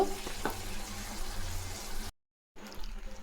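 Moringa leaves sautéing in a pan give a soft, steady sizzle that is fairly quiet and close, broken by a brief total silence before resuming.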